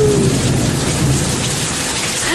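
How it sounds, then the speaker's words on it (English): A heavy thunderstorm with rain pouring hard onto an enclosure, a dense roaring wash of downpour with low thunder rumbling through it, loud and continuous with no voices. "sheets of rain are pelting the enclosure"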